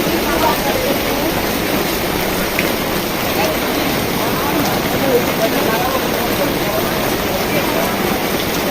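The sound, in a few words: heavy rain falling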